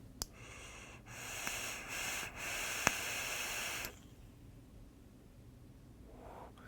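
Long, close inhaled draw on a vape lasting about three seconds, a soft hissing pull with faint clicks, followed by quieter breathing as the vapor is let out.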